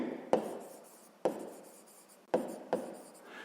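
Handwriting on paper during a sixth-grade maths exercise: four sharp pen taps, each followed by a short scratching stroke, close and quiet.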